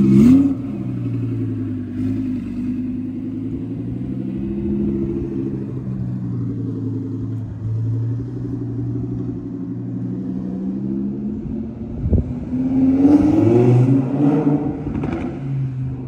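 A Lexus LS430 fitted with a loud aftermarket exhaust rumbles and revs, its deep engine note rising and falling steadily, then swelling louder near the end with some rattling clatter.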